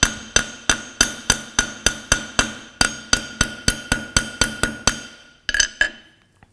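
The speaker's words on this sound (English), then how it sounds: "I'm using the corner of the hammer because that's going to make more of a mark on it." The corner of a hammer strikes inexpensive metal hinges to age them, about sixteen sharp, ringing metallic taps at a steady, even rhythm, close and loud, then a couple of quicker clustered hits before it stops.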